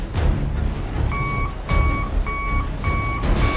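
A truck in Euro Truck Simulator 2 backs up on a winding mountain road, its reversing alarm beeping steadily in close, even pulses over a low idling engine rumble.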